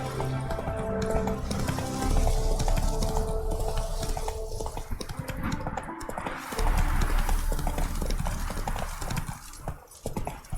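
Roach the horse gallops in The Witcher 3, with loud, steady hoofbeats pounding close by, a brief whinny and some rustling game noise mixed in.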